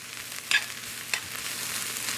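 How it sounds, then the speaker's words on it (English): Cabbage, celery, onions and mushrooms sautéing in a pan, a soft steady sizzle with a couple of brief scraping stirs near the start, close and without talk. "So we're just going to saute that up nicely."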